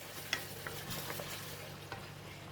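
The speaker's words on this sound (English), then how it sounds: "we're going to fry it until the sambal is cooked and release a very nice fragrance" Sambal fries in a pan with a faint, steady sizzle and occasional soft stirring clicks.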